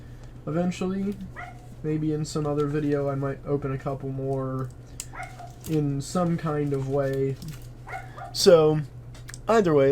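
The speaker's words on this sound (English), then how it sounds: "Sorry if you hear a dog barking," A dog barks and yips repeatedly indoors in short irregular bursts while a person talks over it close by.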